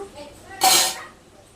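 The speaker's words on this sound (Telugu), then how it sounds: "మనం మూత పెట్టేసుకోవాలి" A lid clatters onto a cooking pot of chicken legs simmering in a little water, one sharp metallic clank that rings briefly and fades, close by in a quiet kitchen.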